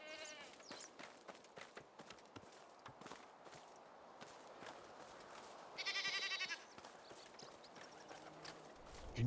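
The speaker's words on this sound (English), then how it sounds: "There's our goats." Faint goat bleats in a medieval farming video game over steady clip-clopping hoof steps, with a brief higher-pitched bleating call partway through.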